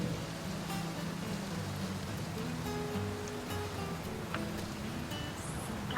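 Steady rain falls in a continuous, even hiss with a soft low rumble underneath, with a few faint sharper drops standing out, holding at a constant level throughout.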